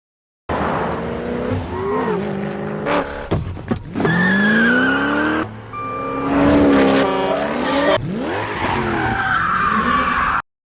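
A car driven fast at racing pace, engine revving and changing pitch while tires squeal and skid loudly in several long sweeps, close and continuous with no talking.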